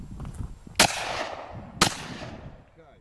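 Two loud, sharp shotgun blasts, about a second apart, ring out outdoors at a clay target shooting lesson, each leaving a long fading echo.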